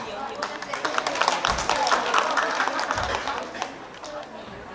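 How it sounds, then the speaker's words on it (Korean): Audience claps for a humanoid robot singer's performance at a science museum's robot hall, scattered clapping mixed with crowd noise and talk over it. "박수 주세요."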